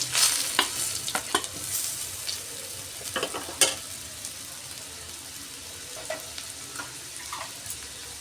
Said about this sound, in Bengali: এবার ভেজে রাখা আলুটা দিয়ে দিচ্ছি।